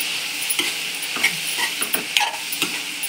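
Moringa leaves being sautéed for a stir-fry in a pan, with a steady sizzle under repeated scraping and stirring strokes from a utensil, close and fairly loud, no voices.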